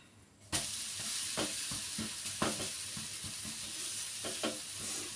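Moringa leaves and other greens sizzle steadily in a hot pan, broken by a series of scraping stirs and flips at irregular intervals; close and fairly loud, with no talking.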